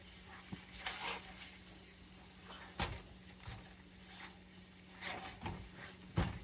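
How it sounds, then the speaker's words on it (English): Quiet, steady sizzling with occasional crackles and soft clinks, heard close up with no talking. "Let's keep frying."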